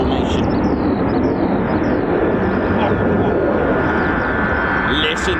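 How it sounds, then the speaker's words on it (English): A Boeing KC-135 tanker flies past an RAF airfield during US Air Force heavy circuits, its broad jet roar loud and sustained with a faint high whine, while a voice talks over it near the start. "Listen to the KC-135."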